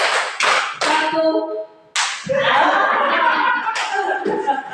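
A seated group plays a rhythmic clapping ice-breaker game, clapping out counted patterns of one, two and three in sharp bursts, with a leader calling out counts in Indonesian and some laughter between rounds.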